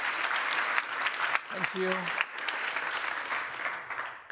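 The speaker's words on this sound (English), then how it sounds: "please, a round of applause for him." A crowd at a conference event applauds continuously for a guest, dense clapping throughout, while someone briefly says a couple of words of thanks partway through.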